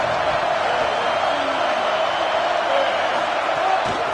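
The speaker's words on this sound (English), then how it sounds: "This crowd ready to make its presence known." A stadium crowd at an Auburn vs Mississippi State football game keeps up a loud, steady roar of cheering, with a voice speaking faintly over it.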